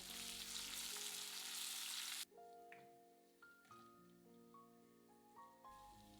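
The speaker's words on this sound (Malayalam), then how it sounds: "അതിലേക്ക് 1 മീഡിയം തക്കാളി ചെറുതായിട്ടരിഞ്ഞത് ചേർത്ത് നന്നായിട്ട് വഴറ്റുക." Chopped tomato goes into hot oil with onions and green chilli for an egg curry, giving a loud close sizzle that suddenly drops to a quieter crackle with soft stirring taps and music-like tones underneath.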